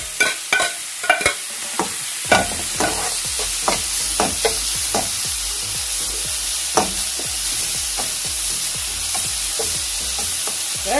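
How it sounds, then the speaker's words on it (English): Shrimp sizzle and fry in a pan for a breakfast dish, a steady bright hiss broken by frequent clattering stirs and scrapes of a utensil, close and fairly loud with no talking. "you can put the shrimp inside now."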